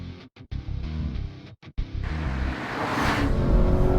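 A Chevrolet Camaro SS engine on the move: a choppy opening broken by brief silent gaps, then a swelling roar that grows louder and fuller toward the end.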